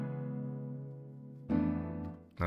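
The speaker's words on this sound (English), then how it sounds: "Without the effects, it sounds like this." A dry FL Studio piano with its effects removed plays sustained chords, then a fresh chord strikes and another begins at the end. The tone is close and clear, with no voice.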